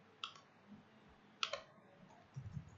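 Mouse clicks on a computer, a few crisp isolated clicks spaced apart, quiet and close, with faint low background noise and no talking.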